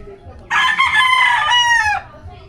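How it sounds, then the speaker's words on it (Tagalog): A rooster crows close by in one long, loud, rasping call lasting over a second, with faint clucking and low rumble in the background. "Ito, ang dami niya rito ng manok."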